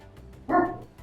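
One loud, close bark from a two-year-old dog breaks a quiet background, brief and clear, with nothing else around it.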